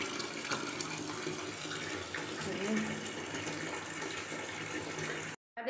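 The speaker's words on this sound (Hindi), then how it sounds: "तो ये मैं सब धो लेती हूँ।" Water runs steadily from a tap while a week's worth of suits are washed by hand, a continuous close gushing and splashing that cuts off abruptly near the end.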